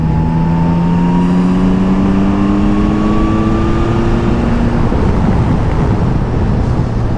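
Yamaha Tracer 9 GT motorcycle engine revving and pulling hard, a steady loud drone with rising tones that climb through the run, wind rushing over the microphone throughout, no voices.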